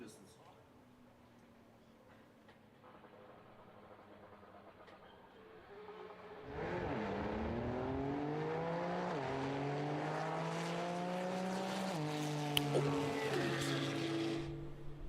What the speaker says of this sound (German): Ein GTR im GT-Modus, also was richtig Seltenes, was man gar nicht so oft sieht, gegen den Cup Porsche